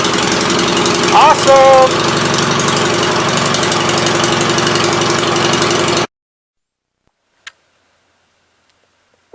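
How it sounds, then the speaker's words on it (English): A 1976 Gravely 816 tractor engine runs loud and steady up close for about six seconds, with a voice briefly exclaiming over it, then cuts to near silence broken by a faint click. "Sit and let it run and smoke that left side out."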